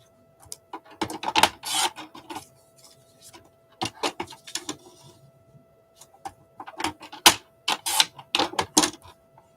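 Scissors snip through glossy magazine pages in bursts of crisp cuts and rustling paper, close and fairly loud, separated by short quiet pauses and a faint steady hum.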